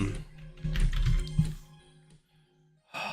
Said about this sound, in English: I keep typing